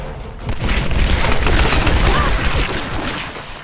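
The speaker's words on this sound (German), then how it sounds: "Da explodiert irgendetwas." An explosion in the video game Tomb Raider sets off a loud rumbling boom followed by a sustained crackling roar of debris that fades toward the end.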